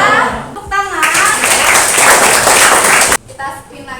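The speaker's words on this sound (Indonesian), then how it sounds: "Ya, tepuk tangan." A classroom of students bursts into a dense round of hand clapping for about two seconds, loud and sustained, framed by a voice talking before and after it.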